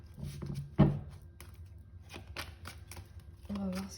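Tarot cards being shuffled for a reading, with soft riffling and a sharp card tap near the start, interspersed with quiet handling sounds, and a voice speaking at the end.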